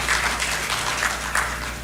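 An audience applauding at a formal event, a soft, fairly distant patter of clapping that stays even throughout with a few slightly louder claps.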